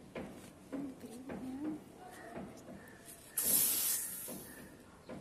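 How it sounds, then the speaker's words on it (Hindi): The lid of a pressure sprayer is opened and pressurised air escapes in a brief, bright hiss that rises sharply and then tapers off, heard beneath someone talking nearby. "अब मैं इसका ढक्कन खोलता हूं तो आप देखिएगा कि इसके अंदर जो प्रेशर हवा का भरा हुआ है वो कैसा आवाज करता है।"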